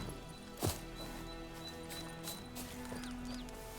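Roach, a horse in The Witcher 3, clops along in a game scene, with one strong hoof impact near the start and a faint steady rhythm beneath a constant ambient bed.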